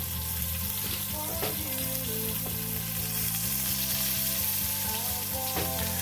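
Sirloin steak sears in hot oil in a pan over medium-high heat, giving a steady, close, continuous sizzle and crackle with a few louder pops and no talking.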